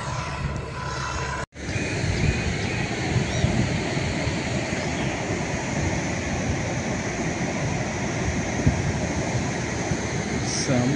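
Wind and waves along the shore of a very large irrigation lake, a steady broadband roar of surf and gusting wind that runs continuously and fairly loud, with a brief dropout near the start.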